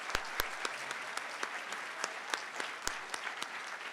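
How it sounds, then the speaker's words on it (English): An audience at a nursing pinning ceremony claps steadily for thirteen nursing students, a moderate, fairly even round of applause in a hall with a few sharper close claps standing out. "let's give these 13 students another round of applause"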